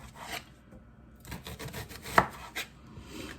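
A knife chops an onion on a cutting board, a handful of quiet irregular thuds and scrapes close by, with a short pause before the cuts resume.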